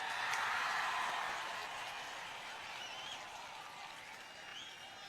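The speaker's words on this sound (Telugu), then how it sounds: "మీరందరూ ఒకసారి జయరాం రమేష్ గారు చప్పట్లు కొట్టండి అందరూ" Applause from a crowd at an outdoor political party public meeting in Tirupati, a sustained hiss of many hands clapping that fades slightly and continues steadily, with no clear speech.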